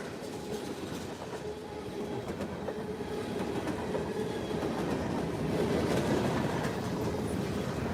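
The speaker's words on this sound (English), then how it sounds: "Scrap gondola. Yeah, Zach, you just missed it. BNSF and KCS leader." BNSF and KCS freight train rolling past at close range, a steady heavy rumble with rhythmic clickety-clack of wheels over rail joints that builds slightly and holds for the whole stretch.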